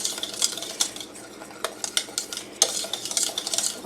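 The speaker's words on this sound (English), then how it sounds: "We're going to mix this up really good." Strawberry pie filling being mixed in a pot, with a utensil scraping and clinking against the sides in irregular bursts, close and fairly quiet.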